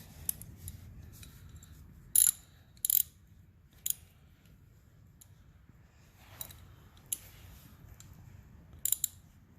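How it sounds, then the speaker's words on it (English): A ratchet tightening bolts on a 2006 Yamaha 450 motorcycle during routine maintenance gives short, sharp bursts of clicking, spaced irregularly with quiet gaps between them and no talk. "You do the rest by ratchet."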